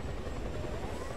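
A helicopter in Just Cause 2 drones with a continuous rotor chop and engine whine. It is faint and distant and holds steady through the brief moment.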